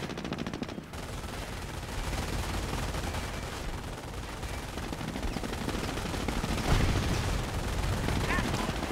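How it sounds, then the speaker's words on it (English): Heavy gunfire in a Company of Heroes battle, with a British Cromwell tank's main gun among it, comes as dense, continuous bursts and blasts. The volley swells louder toward the end of the stretch. "Make ready main gun. Firing."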